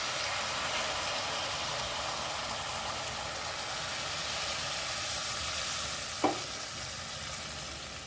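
Curry sizzles loudly and continuously in a pan after water is added, a close, even hiss with one brief clink of a utensil near the end.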